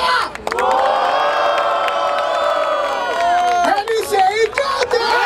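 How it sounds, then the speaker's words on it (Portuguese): A crowd at a rap battle final cheers and shouts loudly and continuously, with whoops and yells swelling near the end, a dense close roar filling the whole stretch. "Barulho para as rimas da Tote do Mota!"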